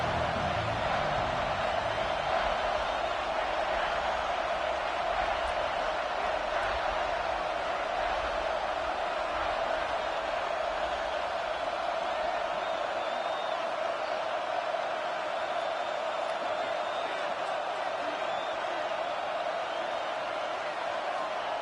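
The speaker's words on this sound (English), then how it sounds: "Man, this crowd really affecting the football game." A home crowd at a Texas vs Arkansas college football game keeps up a sustained, distant roar of cheering and noise in a large stadium, steady throughout with a faint whoop now and then.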